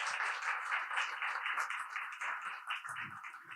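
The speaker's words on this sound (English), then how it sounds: "And I think Naren Nayak deserves a big round of applause." Audience applause at an IIT Madras 1979 batch reunion honouring Naren Nayak, a steady wash of clapping from a crowd heard at moderate distance for a few seconds.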